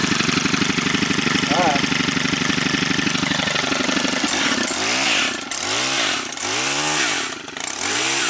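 A Stihl HT131 pole saw engine idles while warming up, a steady close buzzing putter that later settles into rhythmic rising surges, with someone briefly speaking over it.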